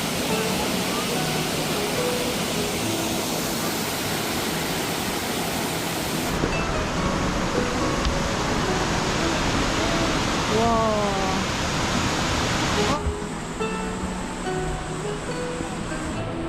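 Yongyeon waterfall in Cheongsong pours water in a steady, loud, hissing roar, heard up close on a hiking trail. The sound is continuous and unbroken, with faint voices briefly audible beneath it.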